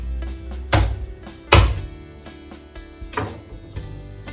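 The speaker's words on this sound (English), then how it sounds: "Next, garlic. Just down on your board, give it a bit of a bash." Garlic bashed on a wooden chopping board in a kitchen while cooking venison heart: three or four heavy, close thumps spaced about a second apart, with low room hum between them and no talking.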